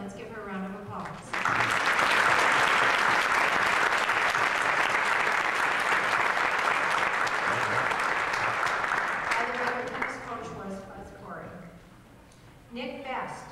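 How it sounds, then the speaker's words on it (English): An audience gives a student athlete a full round of applause, loud and sustained, with brief speech before it and talk returning as the clapping dies down. "let's give her a round of applause."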